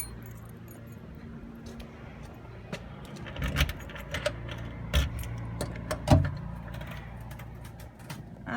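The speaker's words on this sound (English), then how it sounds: "Trying to hold the phone and grab the keys at the same time." Keys jangle in short metallic bursts as they are grabbed in a house, with several louder clinks near the middle over a quiet room background.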